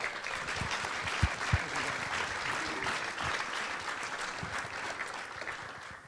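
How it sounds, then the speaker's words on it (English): Steady applause from a workshop audience after a church conference panel, filling the room evenly from start to finish with a few sharper claps standing out. "A round of applause for our panel here."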